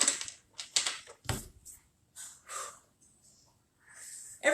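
Tarot cards are shuffled by hand in a series of brief, crisp riffling bursts, close and separated by short pauses, with a soft breath or two between them and no speech.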